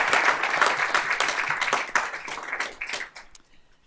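A school board meeting audience gives a round of applause during an honors and achievements segment. Close, brisk clapping runs for about three seconds, then thins into a few scattered claps and stops.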